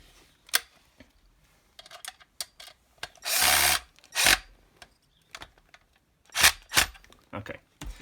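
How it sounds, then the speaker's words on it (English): The retaining screw on a Metabo W13-125 Q MR mortar raking angle grinder is tightened by hand, heard as a series of short close ticks and clicks with a few louder scraping bursts of metal parts being turned and seated. "obviously we just need to tighten up the retaining screw"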